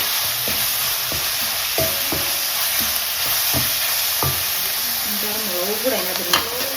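Onions sizzling in a pan with ginger-garlic paste and green chilli paste while a spoon stirs them for a chicken stew. Steady frying hiss runs throughout, with repeated scraping stir strokes and a brief voice near the end.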